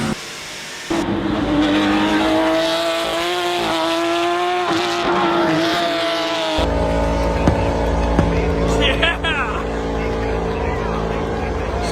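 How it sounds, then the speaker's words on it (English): Race cars doing burnouts in a sim racing game at Ryuyla Circuit after an endurance race, a loud sustained engine roar with rising and falling revs and tire squeal, under a commentator's voice. "Some awesome burnouts by the 93"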